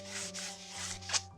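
Sandpaper rubbing over an old painting's surface in a few quick, soft strokes, a faint close scratchy rasp without talk.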